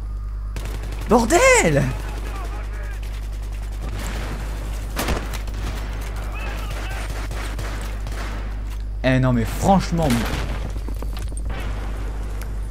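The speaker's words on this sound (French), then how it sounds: "arrêtez avec les explosions!" Gunfire and explosions from the Battlefield 3 video game rumble steadily, with sharp booms near the start and middle over a constant low drone, while someone talks at two points.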